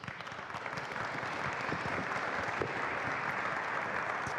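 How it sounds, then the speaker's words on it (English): An audience at a cyber security conference session applauds a panel. Sustained, even clapping from a sizable crowd carries through the whole stretch at moderate distance. "So let's give a great hand to our panel."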